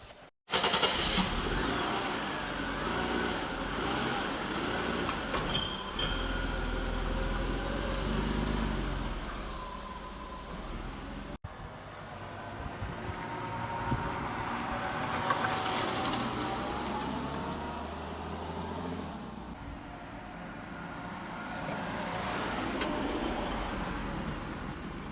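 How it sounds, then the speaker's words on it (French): A 1992 Mercedes 300 TE estate with a 2960 cc six-cylinder and four-speed automatic drives on the road, its engine hum and road roar steady and close throughout, with no talk. "Et maintenant, on va pouvoir faire un essai routier."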